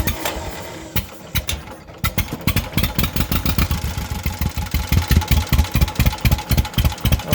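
A John Deere M crawler tractor engine cranks and catches. It settles into a steady, loud, close idle with regular chugging firing pulses, and no one speaks.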